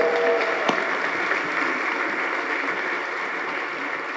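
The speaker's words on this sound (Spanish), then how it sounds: "Denle un aplauso a todos los servidores que fueron a predicar, a todos los evangelistas" A church congregation claps for the preachers and evangelists, a fairly faint, even wash of applause that carries on steadily from start to finish.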